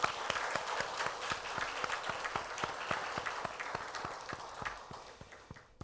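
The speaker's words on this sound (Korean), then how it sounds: "여러분 환영의 박수 보내주시기 바랍니다" A church congregation applauds to welcome visitors at a Sunday worship service: a steady, rhythmic run of claps, fairly close and moderately loud, continuing for several seconds.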